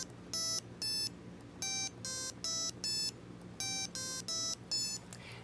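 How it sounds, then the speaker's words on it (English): A Circuit Playground Express board's small speaker plays a sequence of about a dozen short, bright electronic beep tones in an uneven rhythm, clear and isolated over faint background hum. "when I press the A button, it's going to cycle through those notes for us"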